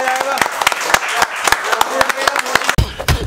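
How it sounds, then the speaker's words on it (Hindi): A class breaks into loud applause for a student, sharp individual claps standing out over a busy room while a voice talks over part of it. "आपके कॉन्फिडेंस के लिए एक ताली जोरदार हो जाए आपके लिए"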